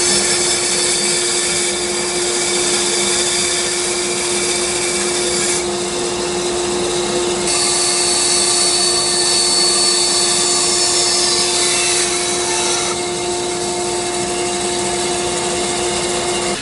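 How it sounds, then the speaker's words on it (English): A power saw resaws a piece of purpleheart wood to split it in two, giving a continuous, loud machine whine with a steady tone and shifting cutting noise throughout, with no talking. "I'm going to resaw the purple heart so it splits into two pieces"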